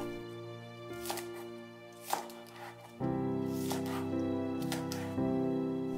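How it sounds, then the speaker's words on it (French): Knife chopping chives into short lengths on a cutting board, a steady series of quick close taps over soft background music, while preparing beef stir-fried on a hot plate. "Coupez les cives en tronçons."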